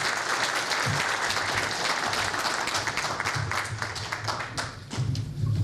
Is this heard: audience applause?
yes